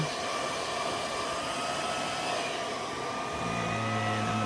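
A hair dryer or heat gun blows a continuous, steady whir onto the back of a vintage Hot Wheels blister card to drive off moisture. Its pitch shifts slightly toward the end.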